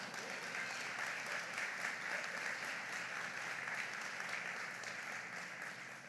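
An audience at a Houston anniversary luncheon applauds, with dense, even clapping from many hands filling the room steadily before it begins to taper off at the end.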